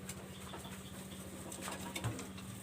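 Teddy pigeons in a loft, many of them sitting on eggs alongside paired Teddy and Golden birds, give soft low cooing and rustling against a steady hum, close by and without speech.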